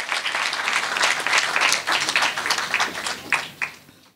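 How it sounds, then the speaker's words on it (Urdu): An audience at a book launch for a collection of Hyderabadi dholak songs claps in steady, dense applause that stays strong for several seconds, then tapers off and stops. "آپ سب ایک بار بہت زور زار تالیوں میں اس کتاب کا استقبال ضرور کریں"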